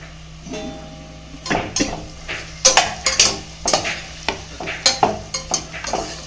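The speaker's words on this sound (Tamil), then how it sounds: "வெங்காயம் இப்போ நல்லா வதங்கட்டும் பார்க்கலாம்" Onions being sautéed in a pot for brinji rice, with loud irregular spoon scrapes and clanks against the metal over a faint frying hiss and a low steady hum, no voices.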